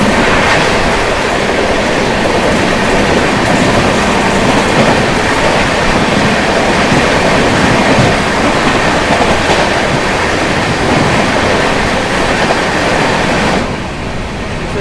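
The Raxaul–Anand Vihar Sadbhavna Express passes very close, a loud continuous roar of wheels and carriages with steady rattling clatter filling the whole stretch, easing slightly at the end.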